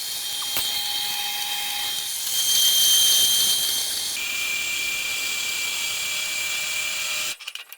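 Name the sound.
grinding off surface of galvanised steel tube before welding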